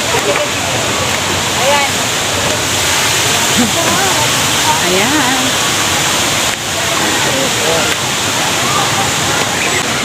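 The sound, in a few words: waterfall rushing water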